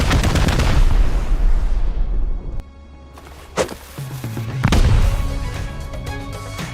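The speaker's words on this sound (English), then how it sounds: "I crafted up the last 8 rockets to get rid of the last TC" Rockets blast a tool cupboard in the survival game Rust, producing loud, booming explosions. A heavy blast at the start fades out, then two more sharp detonations follow close together, each leaving a rumbling tail.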